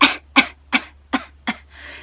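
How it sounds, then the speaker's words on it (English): Five short, evenly spaced deliberate mock coughs, close and loud, then a brief breathy exhale. "you can do what I call it, like a mock cough, like if you were making fun of somebody coughing"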